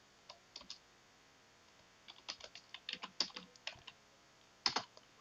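Quick bursts of close computer keyboard typing while writing C code, irregular clusters of crisp key clicks with short pauses between, fairly faint and no speech.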